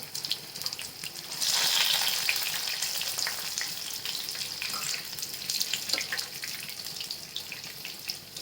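Aluvadi, colocasia leaf rolls, fry in a pan with a steady, close crackling sizzle that swells as the pieces are turned and then holds evenly throughout.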